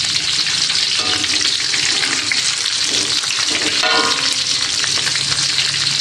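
Steady, loud sizzling and crackling of tofu frying in hot oil, continuous throughout with no talking.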